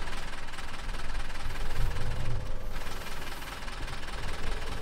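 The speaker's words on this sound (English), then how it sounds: "Man, that tractor is loud." Loud tractor engine in Farming Simulator 15, a steady low rumbling drone that runs through the whole stretch, with a slight surge near the middle and no one talking.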